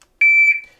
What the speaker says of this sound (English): So here's the normal beep on this,